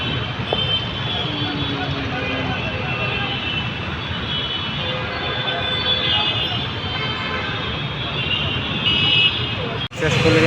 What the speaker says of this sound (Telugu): ఈ ట్రాఫిక్ గోలు వినండి ఒకసారి ఎంత దారుణంగా ఉంటాయో హారన్స్ అవి